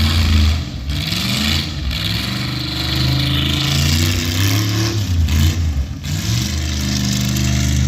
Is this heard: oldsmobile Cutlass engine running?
yes